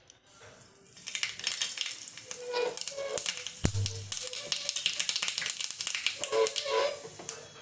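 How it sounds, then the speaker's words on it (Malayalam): Mustard seeds splutter in hot coconut oil, making a dense run of sharp pops and crackles that build and keep rattling for several seconds, close and with no speech. "കടുക് പൊട്ടി"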